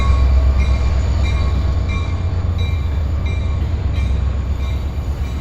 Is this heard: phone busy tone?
no